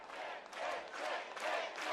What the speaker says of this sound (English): the crowd just trying to give Lecce a push